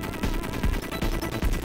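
Explosion in the video game Contra: The Hard Corps, a dense rapid series of booming blasts pulsing about every half second, loud and continuous throughout the short burst.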